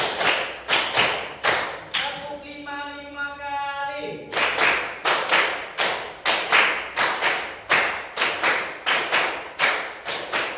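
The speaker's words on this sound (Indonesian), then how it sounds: "Tepuk 1, tepuk 2, tepuk 3, tepuk 4, tepuk 5" A class claps in unison to a counted call, a run of loud, evenly spaced hand claps close by, broken once by a sustained voice in the middle before the steady clapping resumes.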